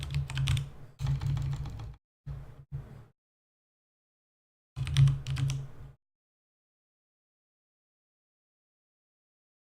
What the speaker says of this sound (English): me typing and not talking.